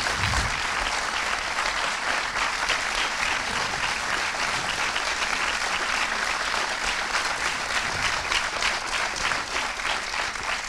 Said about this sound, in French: je crois que les applaudissements sont d'autant plus nourris à Pessac